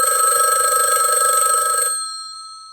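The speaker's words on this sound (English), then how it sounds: "No sooner had he hung up, the phone rang." A telephone bell rings loudly and steadily, then stops abruptly, its bright metallic tone fading out over the final second.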